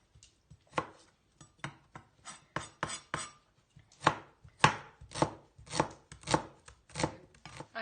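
Small onions being cut with a knife on a board, a run of crisp, close chopping thuds that starts irregular and settles into a steady rhythm.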